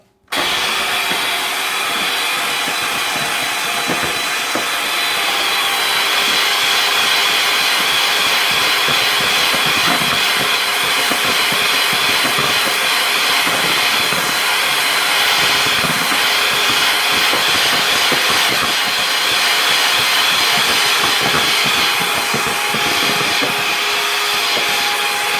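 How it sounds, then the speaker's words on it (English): An electric hand mixer whips egg whites until foamy, a steady loud mechanical whir with a constant motor hum running without a break for the whole stretch. "I'm going to mix the egg whites until it's foamy."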